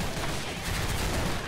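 Rapid, sustained AK-103 rifle fire with an EOTech sight in a tactical shooter video game, dense overlapping shots rolling continuously and close, with no pauses for the whole stretch.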